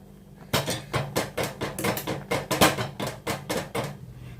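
Cooked ragi mudde is stirred firmly in a pot, giving about a dozen close, evenly spaced knocking thuds at a brisk, steady rhythm, with no talking.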